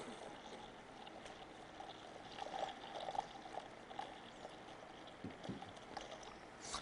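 Water poured steadily onto the absorbent material from a baby diaper, a continuous soft trickle and splash lasting several seconds, moderately near, with no speech over it.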